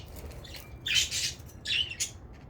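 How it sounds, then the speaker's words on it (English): Budgie squawks and chirps in two bright, loud bursts with a short pause between, close and alone, with no talking over them. "It's just another bird."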